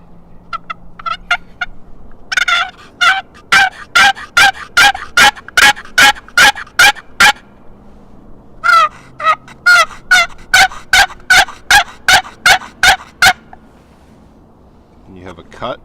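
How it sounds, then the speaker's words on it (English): A wooden turkey box call fitted with a rubber band is worked in quick series of sharp, raspy yelps, close and loud, two long runs of evenly spaced notes with a short gap between. "The bottom of this box call has a groove for your rubber band. And then for a yelp,"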